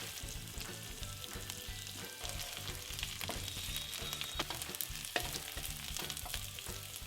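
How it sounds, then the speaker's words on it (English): Finely chopped onions and bay leaf sauté on a low flame, giving a quiet, steady sizzle with faint crackling and a low hum underneath, heard close and without talk. "Then add your finely chopped onions and bay leaf. Stir it on a low flame for a couple of minutes."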